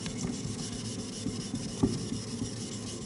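A 3V steel hunting knife rubs steadily across a fine Japanese water stone prepared with a nagura stone, a quiet continuous wet scraping with one brief louder scrape, no talking.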